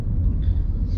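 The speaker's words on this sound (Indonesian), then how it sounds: "suara bising ban itu selalu terdengar" Low, steady tire and road roar heard from inside a 2019 Honda BR-V E CVT on the move, a dense rumble that stays constant at moderate level with no talk over it.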